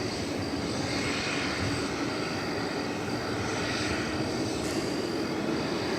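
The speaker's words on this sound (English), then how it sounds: "Just in time for what it looks like it's going to be a takeoff here on 18 left of this magnificent" An MD-11 airliner takes off from runway 18 Left at DFW Airport. A steady, loud broadband engine roar fills the whole stretch without letting up, and no one speaks.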